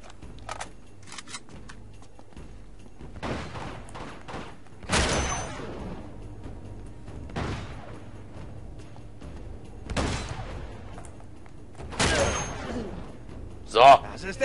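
A sniper fires in the video game Uncharted 2: Among Thieves, with sharp, loud shots cracking out roughly every two to three seconds over a quieter ambient bed, and a voice talking between them.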